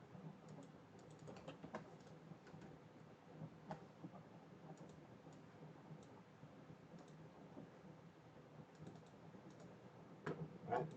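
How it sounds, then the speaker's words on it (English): Keyboard typing on a computer during a lab session, a quiet, steady patter of small clicks running throughout, with a slightly louder burst of keystrokes near the end. "Let me type it here."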